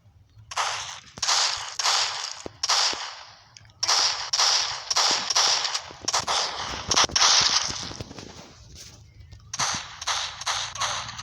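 A shotgun firing in a zombie shooter video game: loud, repeated gunshot blasts in rapid bursts, with brief pauses between volleys and faint background noise underneath.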